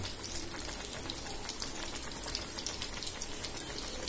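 Onion, garlic and green chili fry in oil for a pointed gourd bhuna, a faint, soft, even crackle of sizzling throughout.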